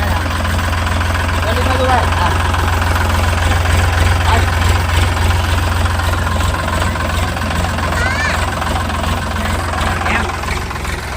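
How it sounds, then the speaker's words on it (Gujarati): A tractor engine idles steadily in a farm field during a sorghum harvest, a continuous low rumble close by running the whole time, with people talking over it. "પ્રિન્સ બધો ટ્રેક્ટર આગે આમ આવો"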